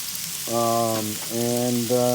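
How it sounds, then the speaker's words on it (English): Shrimp sizzle on a large griddle as a steady background hiss, partly covered by loud, sustained humming tones that come in three bursts. "So we're going to put the shrimp in there, and then we'll flavor them in all the shrimp on there."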